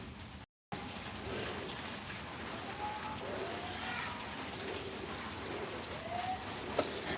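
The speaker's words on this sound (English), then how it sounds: "don't know if you can hear the rain" Steady rain falling outdoors, a broad even hiss of drops on surfaces that runs throughout, with faint bird chirps now and then and a brief dropout near the start.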